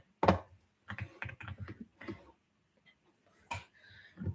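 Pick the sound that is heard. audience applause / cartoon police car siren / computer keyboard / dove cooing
computer keyboard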